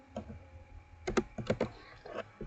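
Keystrokes on a computer keyboard while entering a router access-list command, a sparse run of quiet, close clicks in small clusters.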